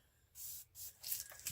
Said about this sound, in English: We'll spray it a little bit.